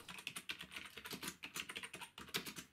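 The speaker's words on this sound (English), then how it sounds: "The keyboard was great, very responsive and nice to use." Keys on a ZX Spectrum-era home computer keyboard are typed in quick irregular bursts, each press a sharp close click, with short pauses between runs of keystrokes.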